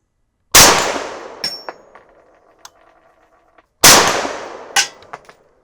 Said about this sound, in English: I'm going to shoot at a pretty big piece of steel at about 50 yards